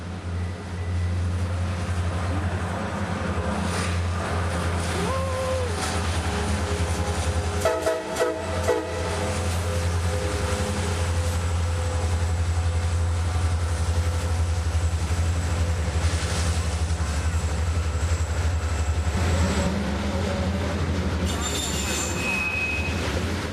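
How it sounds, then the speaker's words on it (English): A long freight train rolls through Montgomery, Alabama, its steady rumble and clattering wagons filling the whole stretch, with wheel squeal and a brief horn-like tone rising over the continuous near, loud roar. "a train is actually coming. We hear it, we don't see it."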